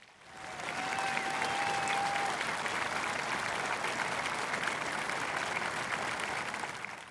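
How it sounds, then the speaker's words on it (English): A large crowd at a Marine Corps graduation at Parris Island applauds the drill instructors, a broad, steady roar of clapping with a brief cheer, swelling in quickly and holding. "Please join me in a round of applause for our drill instructors."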